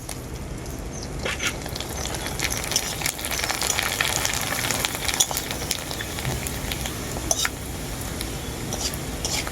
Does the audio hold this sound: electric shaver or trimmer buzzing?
no